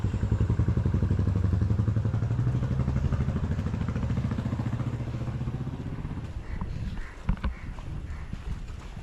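Two-wheelers cross an iron footbridge over a river, producing a loud rapid rattling clatter of the metal deck that gradually fades, followed by scattered clanks and thumps.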